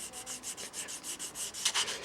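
A sanding block rubs back and forth over a balsa wood radius in steady, even strokes, about ten passes close up with a soft papery rasp, the last few slightly harder and louder.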